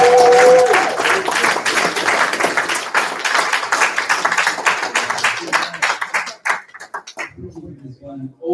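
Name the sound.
audience applause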